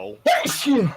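A single sharp sneeze bursts out close by in a baseball broadcast booth after a brief quiet, followed by a short voiced exhale.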